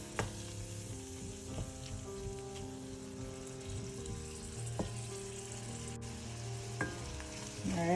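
Salt mackerel frying in a pan on the stove, giving a soft, steady sizzle with scattered pops and faint tonal hum from the kitchen, heard close and fairly quiet without talk.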